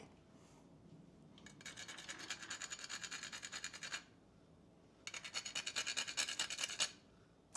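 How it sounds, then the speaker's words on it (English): Fresh nutmeg grated over a holiday cocktail gives two bursts of quick, rhythmic rasping strokes, close and crisp, separated by a short pause with no talking. "this one gets a little bit of a grating of fresh nutmeg"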